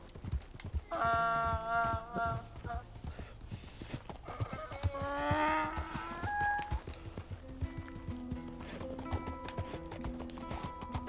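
Donkey hooves clip-clop steadily in Red Dead Redemption 2, a regular walking rhythm running through the scene alongside a tonal music score and an occasional whinny-like call.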